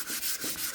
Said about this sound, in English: we don't want to use the sandpaper like this. Keep it on the block, even pressure.